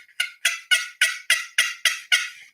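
Sharp turkey clucks worked on a pot-style friction game call, eight crisp evenly spaced notes about a third of a second apart, loud and close with nothing else heard.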